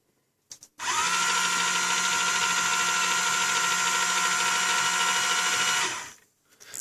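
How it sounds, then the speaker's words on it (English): Electric motors on a small Raspberry Pi-controlled robot car spin up together and run at a steady, loud, whirring drone for about five seconds, then stop abruptly, close to the listener. "all that does is to run the motors for 5 seconds together"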